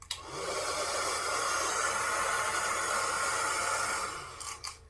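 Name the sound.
hair blow dryer running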